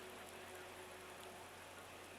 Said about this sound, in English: it's raining quite a bit